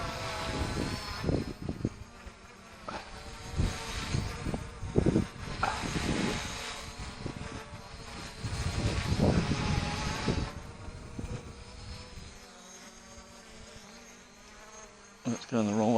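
A small MRX 16 Pro 11.4 V quadcopter drone buzzes steadily in flight outdoors, its insect-like whine swelling and fading as it moves, with occasional faint thumps and gusty noise.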